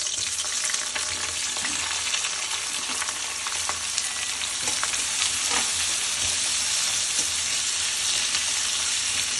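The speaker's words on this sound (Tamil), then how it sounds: "இப்போ எண்ணெய் சூடானதுக்கு அப்புறமா வெங்காயம் போடணும்." Onions frying in hot oil in a pan for channa masala, a loud, continuous crackling sizzle with scattered pops and occasional stirring clatter, no speech.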